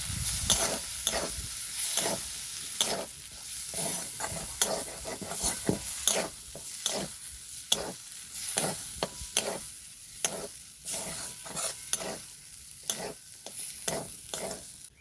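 Rohu fish pieces with salt and turmeric are turned in a pan, giving steady sizzling frying under repeated close scraping strokes of the stirring spoon, with a rhythmic pattern of sharp clacks against the metal.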